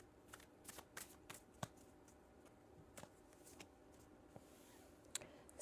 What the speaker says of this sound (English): I know I shuffled these cards.